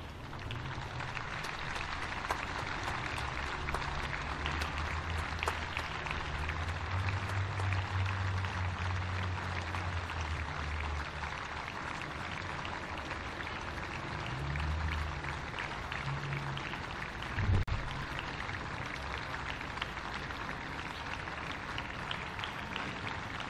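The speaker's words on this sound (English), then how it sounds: "would you please stand up as we honour Jeff Wright with 1 minute's applause" A stadium crowd at Perry Park gives a minute's applause before a football match, steady and dense, with broad clapping that holds at an even level for the whole stretch and has no voices over it.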